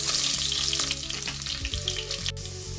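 Garlic fries in hot oil with a bright, close sizzle and crackle, accompanied by stirring scrapes and a low steady hum underneath.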